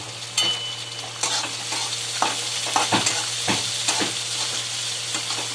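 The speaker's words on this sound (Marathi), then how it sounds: "आता थोडा कांदा गुलाबी होईपर्यंत परतून घेऊ." Onion and peanuts sizzle in a hot pan under a steady frying hiss, while a spoon scrapes and stirs them in a few soft, irregular strokes close by.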